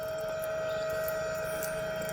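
A solar-powered submersible pump running at 3000 RPM gives off a constant, steady whine with a hiss of rushing water, unbroken and fairly loud throughout.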